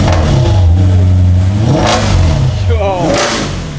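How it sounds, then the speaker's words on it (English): Engine revs of an Audi S7 with downpipes and an X-pipe, straight-piped exhaust, loud and close: a deep drone climbs and falls, then a second quick rev near the end. "Let's give it a rev real quick."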